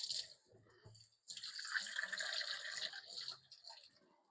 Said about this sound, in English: And I'm filling it with hot water.